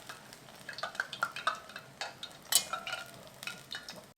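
Light sizzling of tofu shallow-frying in oil in a pan, with soft stirring scrapes and a few clinks of utensils against cookware.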